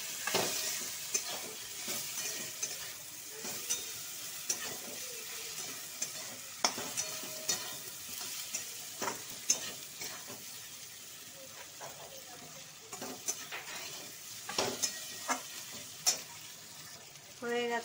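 Spice masala with fried potatoes sizzling in a pan for a spicy katla fish curry, a steady frying crackle broken by repeated scraping stirs, close and moderately quiet with no talking.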